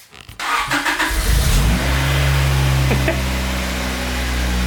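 A car engine starts and revs up loudly nearby, then settles into a steady, rising drone as the car pulls away for a drive.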